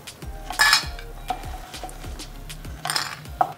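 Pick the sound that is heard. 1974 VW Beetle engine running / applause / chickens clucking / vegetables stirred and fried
vegetables stirred and fried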